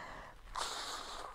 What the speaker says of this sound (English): That was the worst nose blow ever.